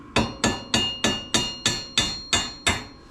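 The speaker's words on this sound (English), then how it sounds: "Using my hammer to give it a little bit of a tap to push the bar out." A hammer strikes a car's rear anti-roll bar eight times at a steady, even rhythm to drive it out of the suspension, each close metallic clank ringing briefly before the next blow.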